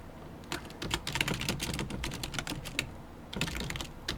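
Fingers type on a computer keyboard in quick, irregular bursts of sharp clicks with a brief pause near the middle, close and distinct with no talking.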